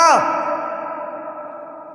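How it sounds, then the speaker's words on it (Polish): A short vocal call rings out and decays into a long, fading reverberant tail inside the empty halls of an abandoned paper mill, the echo lingering for about two seconds. "to jest fajny pogłos"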